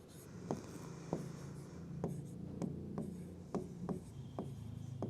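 Chalk or a marker scratches on a board during a maths lesson on triangles, a quiet series of sharp taps and short strokes spaced about every half second, with no talking.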